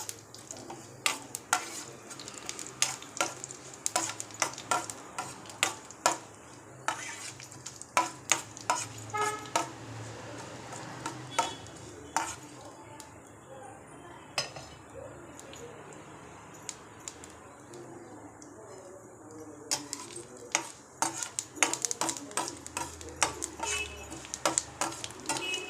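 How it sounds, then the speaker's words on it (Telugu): Mustard seeds, cumin and other tempering spices sizzle in hot oil, with sharp crackles and pops scattered irregularly across a steady frying hiss, fairly close. "పోపు దినుసులు బాగా వేగనివ్వాలి. ఆవాలు చిట్పట్లాడాలి, జీలకర్ర బాగా వేగాలి."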